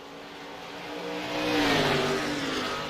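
Stock race cars in the ACOG Gold National Series at New Hampshire sweep through a corner with engines whining and swelling as they pass close by, then fading slightly, with no voices.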